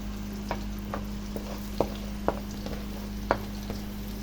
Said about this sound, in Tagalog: hayaan lang muna natin na ma-fry at lumabas ang aroma ng garlic bago natin ilagay ang onions